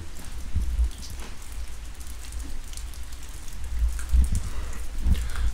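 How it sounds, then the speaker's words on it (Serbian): Steady rain falls and patters on surfaces outdoors, a continuous hiss with a few heavier drips and low rumbles, moderately loud, with no voices. "ipak kiša pada"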